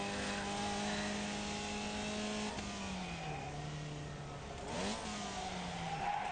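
A race car in the iRacing video game drones under steady load with a tonal engine note, which drops on downshifts and then revs back up, all without talk.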